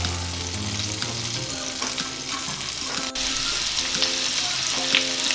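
Onions frying in a pan for garlic butter prawns, a continuous close sizzle with occasional scraping and stirring clinks, no voices.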